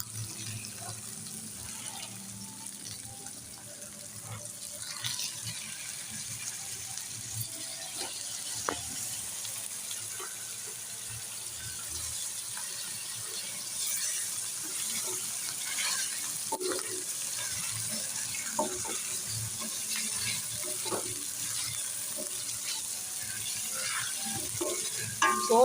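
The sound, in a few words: meat added to hot pan with fried garlic and ginger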